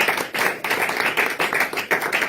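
A church congregation claps together in steady rhythmic bursts during a worship gathering, loud and close, with faint voices mixed in.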